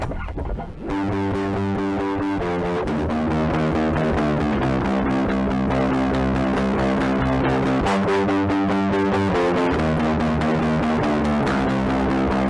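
A Joyo bass distortion pedal gives a loud, continuous fuzzy distorted tone with sustained notes and chord changes, played alone without talk.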